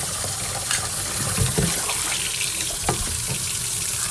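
Running tap water pours steadily over a wet collodion photographic plate as it gets a vigorous rinse, a continuous close splashing gush with no speech.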